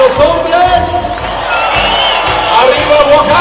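Men in a festival crowd at a Oaxacan fiesta shout and whoop together with music from a youth band, a loud, continuous mass of raised voices.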